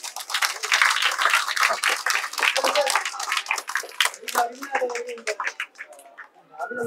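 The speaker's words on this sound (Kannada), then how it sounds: "ಮತ್ತೊಂದ್ಸಲ ಎಲ್ಲರೂ ಜೋರ ಚಪ್ಪಾಳೆ ಮೂಲಕ ಅವರಿಗೆ ಕಂಗ್ರಾಚುಲೇಷನ್ ಹೇಳಬೇಕು." Audience applause at a student council election ceremony congratulating the winning students, a dense wash of clapping that runs steadily through the whole stretch and thins toward the end.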